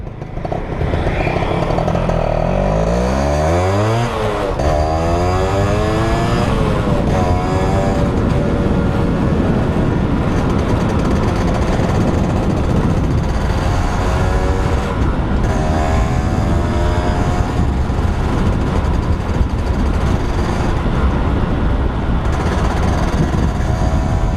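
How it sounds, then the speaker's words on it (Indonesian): A Yamaha F1ZR motorcycle in Marlboro livery with a loss of power has its engine running loud and close, revving up and down in sweeping surges over a constant rough idle. "mesinnya masih halus teman-teman kalau segini"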